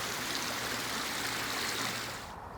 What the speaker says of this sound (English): you can see the water is flowing through the pipes